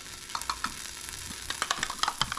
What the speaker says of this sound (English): going to add the chicken to the pan